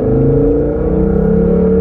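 A Volvo V70 estate accelerates hard, its exhaust giving a loud, close, steady engine drone that climbs gently in pitch.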